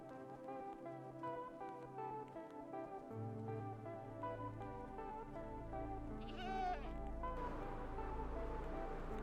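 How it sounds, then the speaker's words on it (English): Several Minecraft goats bleat on stony mountain peaks, a run of nasal bleats that are fairly loud and close, layered over soft game music and ambience. "Ooh, goats."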